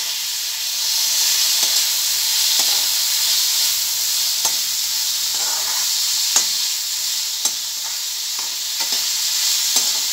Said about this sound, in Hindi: डाल के इसको भी एक से दो मिनट हल्का सा फ्राई कर लेंगे।